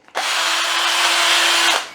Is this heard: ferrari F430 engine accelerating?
no